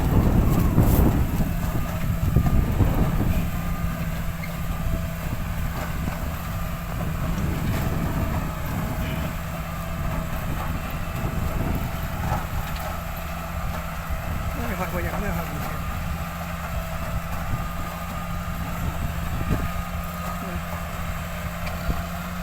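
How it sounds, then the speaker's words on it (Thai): A large tractor rumbles steadily as it drives through a sugarcane field, its low engine drone constant and fairly close, with someone talking over it now and then. "รถไถใหญ่ๆเนี่ยนะครับ มันก็จะไปอย่างนี้แหละครับมันได้เร็วกว่า รถเรานะครับ"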